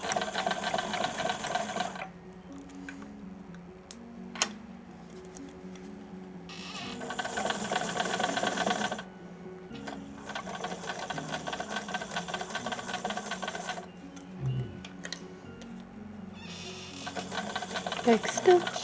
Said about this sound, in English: I like to get the stitching right close to the edge of the thing.